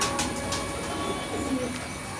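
Soft, repeated cooing of pigeons close by at a pigeon farm in Kurukshetra, Haryana, a low throaty warble running steadily over a noisy outdoor background.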